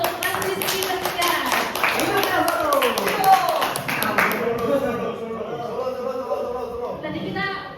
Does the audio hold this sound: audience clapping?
yes